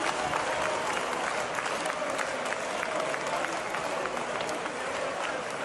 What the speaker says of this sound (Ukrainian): У момент ухвалення у залі було чути радісні вигуки та оплески.